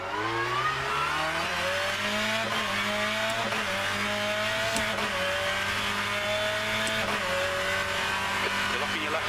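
In the rFactor 2 racing sim, a BTCC touring car at Norisring brakes hard into turn 4 with the left front locking. The engine drones loudly and steps down through downshifts with faint tire squeal, while a voice talks over it.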